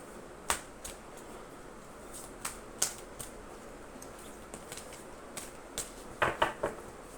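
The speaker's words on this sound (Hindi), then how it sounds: "शफलिंग पूरी नहीं हुई है" Tarot cards being shuffled by hand, heard as faint, close riffles and sharp snapping flicks scattered irregularly over a quiet room background, with a quick cluster of snaps near the end.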